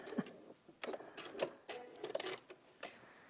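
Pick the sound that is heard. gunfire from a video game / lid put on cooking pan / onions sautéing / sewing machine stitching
sewing machine stitching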